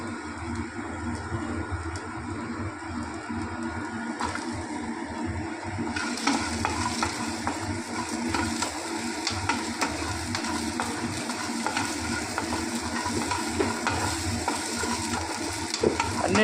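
Onions stirred and dry-roasting in a pan with previously fried spices, a steady close sizzle with continuous scraping and stirring that grows a little louder partway through, no talking.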